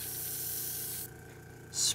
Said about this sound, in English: let's try just one last